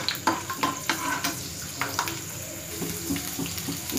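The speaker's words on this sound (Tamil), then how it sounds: "நல்லா ஃப்ரை பண்ணிடலாம்." Garlic frying in hot oil in a pan for curry leaf chutney, a steady close sizzle with scattered stirring clicks and scrapes throughout.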